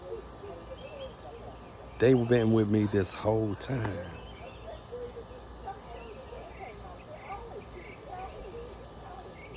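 Crickets and birds chirp outdoors at a ranch, a faint steady insect trill with scattered calls, and someone speaks briefly over it.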